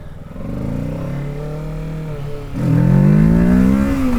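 A Kawasaki Ninja 650 motorcycle engine holds a steady, buzzing note close by, then revs sharply upward into a louder, higher whine that stays strong to the end.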